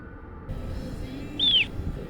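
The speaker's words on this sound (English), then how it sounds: "Our only visitors were the marmots that we heard chirping in the background." A single high, thin marmot chirp rings out once against a quiet outdoor background hum in Colorado's San Juan Mountains.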